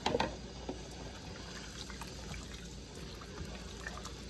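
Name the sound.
pouring water into beef stew pot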